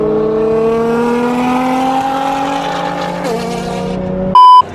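A wide-body Nissan GT-R street car at a car meet revs its engine in one long, smooth climb in pitch that dips briefly near the end, loud and close, followed by a short electronic beep.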